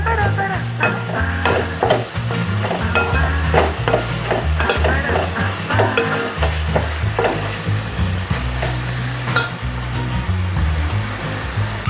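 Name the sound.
stirring chili powder into egg curry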